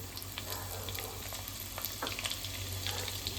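Garlic, ginger and green chillies frying in hot oil for prawn pickle, a steady close sizzle with crackling pops and occasional stirring, no voices.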